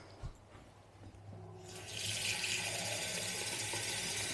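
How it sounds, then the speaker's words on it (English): A kitchen sink tap turns on after a faint knock and some shuffling, then water streams steadily and fairly loudly into the sink for the remaining seconds. "follow me to the sink. Let's get some water."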